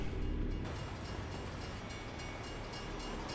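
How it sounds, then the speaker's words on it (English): Freight train passing a railroad crossing in American Truck Simulator: a continuous heavy rumble and roar, loud and close, that holds steady throughout with no voices over it. "No, it's a freight train."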